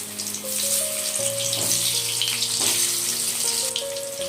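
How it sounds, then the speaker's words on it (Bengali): Potatoes coated in salt and turmeric frying in a tablespoon of hot oil in a wok, a loud continuous hissing sizzle with steady tones running beneath, close, no talking. "নুন হলুদ দিয়ে মেখে রাখা আলুগুলো আমি প্রথমে ভেজে নেব"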